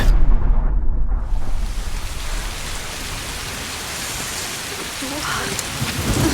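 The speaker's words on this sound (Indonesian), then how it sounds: "Saigon benar-benar diguyur hujan sangat deras" Heavy rain pours steadily in Saigon, a dense broadband wash with a deep rumble of thunder near the start that fades into constant downpour.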